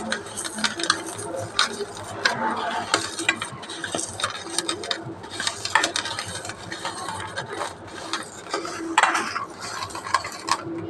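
Boiled chana dal being mixed with salt by hand or spoon in a bowl, a close run of soft squelching rubs and light clinks against the dish, irregular and busy throughout.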